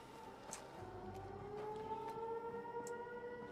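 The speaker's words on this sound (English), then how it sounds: "Sirens are going off." Air raid sirens wail in the video game Fallout 76, long steady rising tones that hold and slowly climb, heard at moderate distance over faint ambient game noise with occasional soft clicks.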